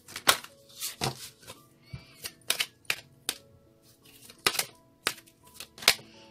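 Crisp riffling and snapping of cards being shuffled, several quick bursts with short pauses, close and fairly quiet.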